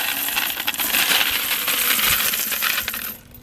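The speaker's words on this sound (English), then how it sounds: "That's a lot of coins." A large pile of coins being poured and handled, a dense continuous metallic jingling that is loud and close and then stops abruptly.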